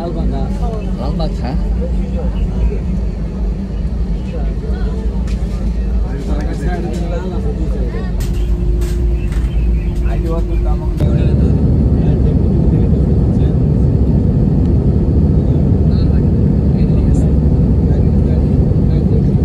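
Steady, loud jet engine roar fills a Sri Lankan Airlines passenger cabin after takeoff, a constant deep drone that shifts once partway through, with faint talk underneath.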